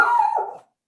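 A single dog barks once as it walks by, a drawn-out howling bark from fairly close that cuts off abruptly.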